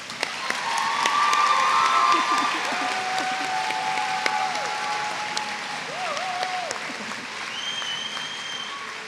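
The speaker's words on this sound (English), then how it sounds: "So let's give yourselves a round of applause." Sustained applause from a crowd at a nursing pinning ceremony, steady and full for several seconds with scattered cheers and voices rising through it before it thins out slightly.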